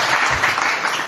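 A church congregation breaks into sustained applause during a French-language sermon, a dense, steady wash of clapping that fills the full second without pause.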